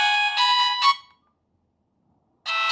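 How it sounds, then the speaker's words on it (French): Electronic ringtone of a 2G mobile phone, bright tonal bursts in a short repeating pattern, a pause of silence, then the melody starting again, clear and close. "vous pouvez changer la sonnerie sans aucun problème"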